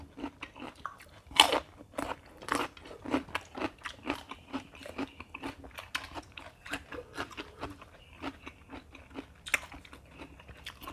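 Someone eats crunchy raw glass shrimp soaked in fish sauce, with close, crisp bites and steady chewing crunches repeating throughout at a quiet level, and little or no talking.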